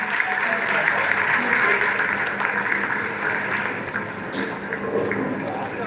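Steady, dense applause fills ISRO mission control during the Chandrayaan-3 landing's descent phase, a continuous wash of clapping with faint voices mixed in.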